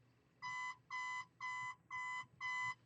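An alarm clock goes off with five evenly spaced electronic beeping bursts, each about a third of a second long, clear and moderately loud over a quiet room.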